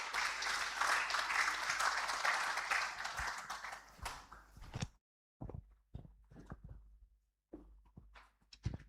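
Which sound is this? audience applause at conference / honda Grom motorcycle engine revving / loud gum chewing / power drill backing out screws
audience applause at conference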